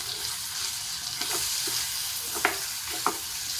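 Salted eggplant stir-fry for a Kerala mezhukkupuratti hisses softly in a pan, with two sharp spatula scrapes cutting through the even sizzle near the end.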